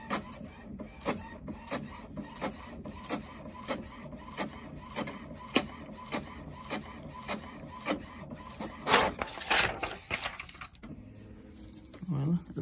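An HP OfficeJet Pro 6978 inkjet printer prints a page with steady, rhythmic mechanical clicks and whirs close by, swelling into a louder feed burst near the end before it settles.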